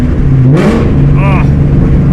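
A 750 hp Shelby GT500 Mustang downshifting, its loud engine drone rising in a quick rev blip inside the cabin while people talk over it.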